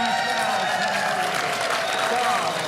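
Live studio audience at CrimeCon 2024 applauds, steady dense clapping throughout with a faint tonal hum underneath.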